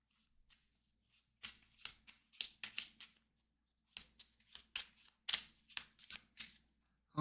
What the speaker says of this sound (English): I just shuffled these up